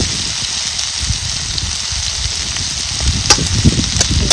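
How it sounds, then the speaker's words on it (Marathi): Vegetables sizzle and fry steadily in a pan with red chilli powder, onion-garlic masala and salt, the stirring scrapes growing a little louder toward the end, close and with no talk. "एक जोर करून हलवून घ्यायचं आहे"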